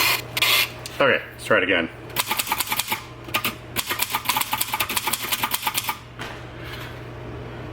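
A typewriter ribbon being wound back and forth produces rapid, repeated ratcheting clicks in quick bursts, close and clear. Brief scraping and handling sounds come first, and a voice speaks briefly.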